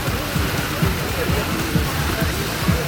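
Waterfall spilling into the pool at the RIU Guanacaste resort in Costa Rica, a steady rushing wash of falling water with splashy patter, continuous and fairly close.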